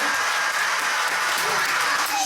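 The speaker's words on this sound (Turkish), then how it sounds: "alkış gelsin size" A kindergarten audience claps continuously, a dense and fairly loud patter of many small hands with a voice briefly audible above it.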